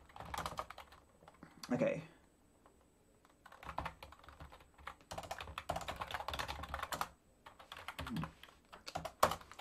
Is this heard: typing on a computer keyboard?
yes